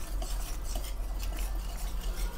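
A spoon stirs Gujarati kadhi mixture in a pot, with a steady scraping, swishing texture running continuously and close, without any talking.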